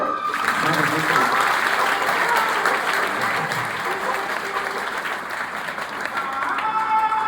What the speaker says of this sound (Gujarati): તાળી તો પડે હો.